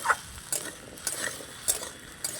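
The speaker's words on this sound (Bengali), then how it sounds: "এবার আমি কেটে রাখা ঢ্যাঁড়সগুলো দিয়ে দিচ্ছি মিশিয়ে নেব ভালো করে উনুনের আঁচটা এখন হাই করে দিয়েছি" Cut okra sizzles in a hot pan over high heat, with soft frying hiss underneath and several sharp clinks and scrapes of a utensil stirring it, close by and with no talking.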